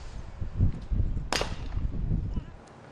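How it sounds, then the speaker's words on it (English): A single sharp sniper rifle crack rings out at a SWAT challenge tower, short and fairly distant, rising briefly above a low murmur of background crowd noise. "Is that the first shot of the snipers?"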